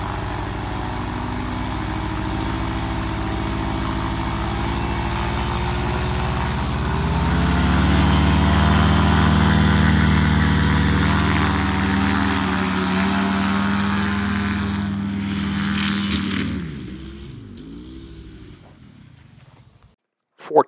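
A paramotor engine and propeller run up for takeoff: a loud, steady, close drone that swells partway through and holds, then cuts out near the end, leaving brief fading sputters and quiet.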